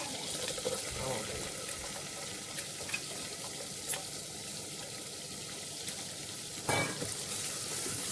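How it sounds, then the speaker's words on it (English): Shallot sautéing in melted butter in a pan for mushroom risotto, a soft continuous sizzle with a few light knocks and stirring scrapes, heard up close at low volume. "we'll go ahead and add in our shallot"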